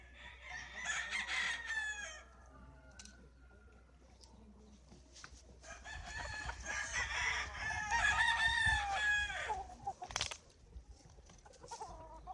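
Gamecock roosters at a breeding farm crow repeatedly at fairly close range, mixed with clucking and other farmyard calls over a low steady hum.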